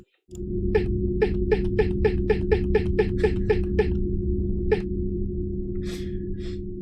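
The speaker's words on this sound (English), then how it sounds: "I thought it was a little bit dramatic, like they're gasping, like, oh, pick me!" A dramatic gasping effect from the RPG Maker game Grimdelve, heard as a rapid run of about a dozen short, sharp breathy bursts over a steady droning tone, followed by a single later burst and a softer breathy tail.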